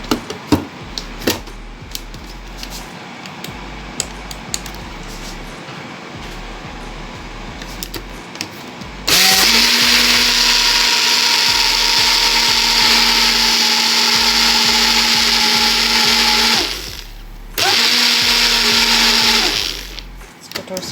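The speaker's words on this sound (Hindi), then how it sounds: "इसको करेंगे ब्लेंड।" Electric blender mixing a coconut shake with fresh coconut, starting abruptly after some quiet clinks and handling, then whirring loudly and steadily, pausing briefly, and resuming before cutting off.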